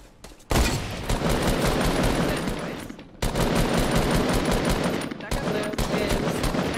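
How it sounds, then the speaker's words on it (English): Rapid automatic gunfire in Fortnite Battle Royale, loud and dense bursts nearly filling the whole stretch with a brief gap near the middle, sharp cracks layered over each other. "I headshotted that guy for his shield."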